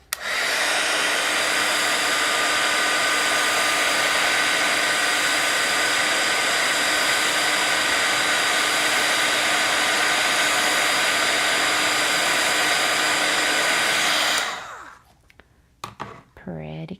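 Heat tool blowing steadily over embossing powder on a card made with tree stencils, a loud continuous whooshing hum for about fourteen seconds that cuts off, followed by a few light clicks and handling noises.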